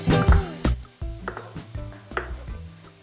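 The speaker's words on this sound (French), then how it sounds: "je finis de couper mes saucisses" Knife chopping sausages on a board while making Mauritian rougail saucisses, a series of close, sharp thuds in an irregular rhythm with faint kitchen clatter in between.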